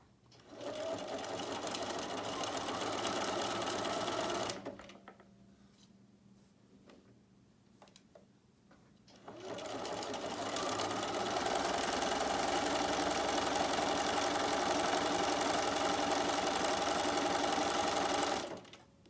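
Sewing machine stitching silk organza along a folded raw edge: loud, fast continuous mechanical whirr for about four seconds, a pause with faint handling sounds, then a longer steady run of stitching.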